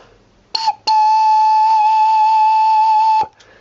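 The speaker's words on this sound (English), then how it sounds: "This little D pipe, very small as you can see, is the highest of the facade pipes," Small, high-pitched D organ facade pipe, voiced and sounding a sustained pure whistle-like tone for about two and a half seconds after a brief first puff, close and clear.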